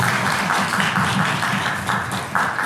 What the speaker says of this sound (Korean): 박수를 한번 먼저 드리겠습니다